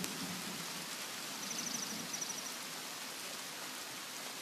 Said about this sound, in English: And it rains every single day.